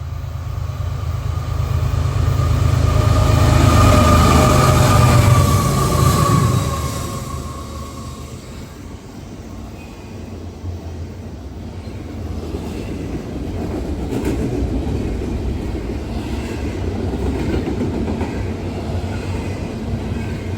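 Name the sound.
eastbound freight train with auto rack cars passing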